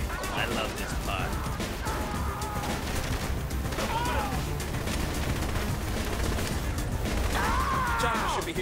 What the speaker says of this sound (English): I need some covering fire